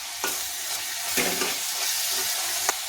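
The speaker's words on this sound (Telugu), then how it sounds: "ఇప్పుడు ఇది బాగా కలిసేలా తిప్పుకోవాలి" A spoon scrapes and stirs through a thick masala in a pan for bottle gourd curry, with a constant hiss of frying underneath and a few sharp scrapes.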